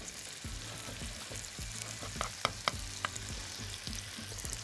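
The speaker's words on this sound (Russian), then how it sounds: "Котлетки жарим." Potato pancake and chicken cutlets frying together in a pan, with a steady close sizzle and crackle broken by a few sharp pops and spatters, no talking.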